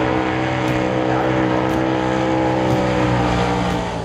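A swamp buggy engine runs steadily and loudly at close range, a continuous rough drone with strong low harmonics and no clear pauses throughout.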